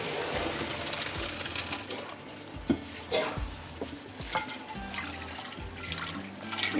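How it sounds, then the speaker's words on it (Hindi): Water pours and splashes steadily as it drains from a cooking pot into a sink, with occasional clatters and bumps of cookware along the way. "इसका हमने पानी को ड्रेन आउट होने देना है"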